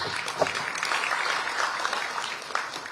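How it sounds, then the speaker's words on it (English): Audience applause for a keynote speaker at a water and environment week event in Uganda; a steady wash of clapping at moderate level, with a few distinct claps and some voices mixed in. "Give him another round of applause."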